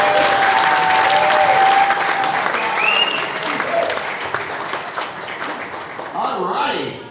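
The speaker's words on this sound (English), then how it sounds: "Round of applause, please." Audience applause at a real estate conference panel, a dense sustained clapping from a crowd that swells for a few seconds then thins out, with some voices and a faint whistle mixed in.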